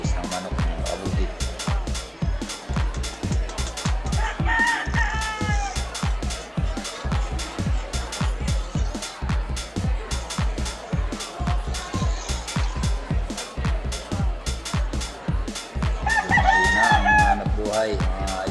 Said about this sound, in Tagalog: Dami ng manok dito sa paligid.